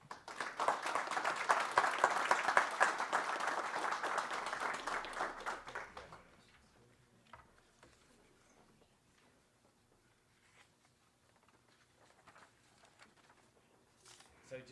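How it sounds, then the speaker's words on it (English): An audience at a school board meeting gives a burst of applause lasting about six seconds, dense and close, then the room falls quiet with faint background sounds. "Give them a round of applause."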